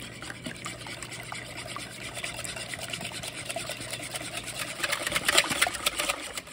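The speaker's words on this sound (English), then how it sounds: "let's go ahead and whisk this up. Break those yolks up." Egg yolks with vanilla and cake batter flavoring are whisked in a bowl for a cake, a soft steady rapid clicking and swishing close by, growing slightly louder toward the end.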